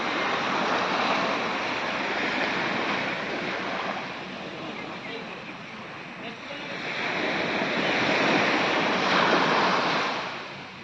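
Sea waves roar steadily on Kalapathar beach, Havelock Island, Andaman, a broad continuous surf wash that swells and eases over about eleven seconds, with wind buffeting the microphone.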